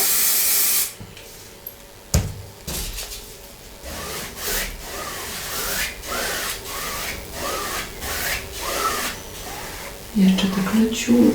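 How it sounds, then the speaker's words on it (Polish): White acrylic spray paint hisses in light short bursts onto a poppy painting canvas, a series of airy sprays with soft rubbing in between, fairly close, with talking at the start. "takim delikatnym wstrzyknięciem białego spraya wyznaczę sobie tutaj główne źródło mojego światła"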